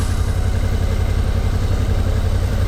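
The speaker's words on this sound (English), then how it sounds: "It's like riding a bicycle, but with a big engine on it." Suzuki V-Strom motorcycle engine running steadily while riding, a loud, even low rumble with a constant mid-pitched drone and no talking.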